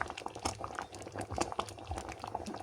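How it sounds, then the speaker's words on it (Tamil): Milk porridge boils in a pot close by, thick bubbles popping and gurgling in an irregular, steady stream with no voices. "பாருங்கோ நல்லா கொதித்து அவிஞ்சிருக்குது"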